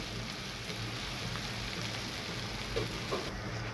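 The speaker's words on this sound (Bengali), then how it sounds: "তাহলে আমি পেঁয়াজটাকে ভেজে নিচ্ছি।" Onions for a prawn malai curry fry in a pan with a soft, steady crackling sizzle, quiet and close, and no voices.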